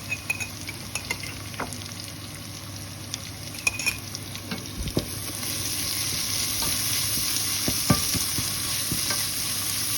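Onions frying in a pan for chicken curry as garlic paste and ginger paste go in, with a steady close sizzle and scattered scraping strokes from stirring, the hiss growing fuller and denser in the second half.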